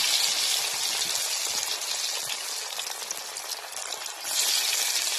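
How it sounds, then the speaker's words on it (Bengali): Pieces of dhoka mixture fry in hot oil, producing a dense, steady sizzle and crackle close up that stays loud throughout. "মিক্স করা, এগুলো ভেজে নেব"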